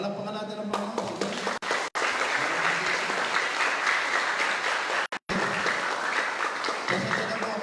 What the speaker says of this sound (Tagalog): Palakpakan natin ang Panginoon.